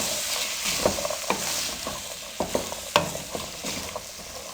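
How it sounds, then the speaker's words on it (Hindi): Fried chana chaat ingredients are mixed with tomato ketchup, giving a run of sharp spoon clinks and scrapes at an uneven rhythm over a soft, hissing background. "अब इन तमाम चीज़ों को हम अच्छे से मिक्स कर लेंगे।"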